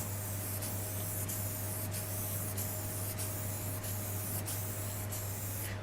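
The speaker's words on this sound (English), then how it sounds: "So I'll put on the satin lacquer." An airbrush sprays satin lacquer onto a turned wooden piece, a close continuous hiss with faint regular pulses and a low steady hum beneath.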